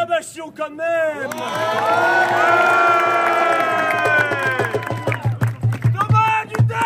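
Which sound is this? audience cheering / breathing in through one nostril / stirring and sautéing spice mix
audience cheering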